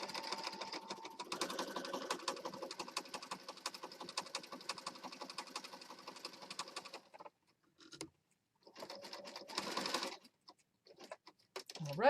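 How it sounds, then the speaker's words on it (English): A home sewing machine stitching down a Christmas mini journal, running in a fast, steady patter for several seconds, then pausing and starting again in shorter bursts, close and fairly quiet. "We're going to stitch this down."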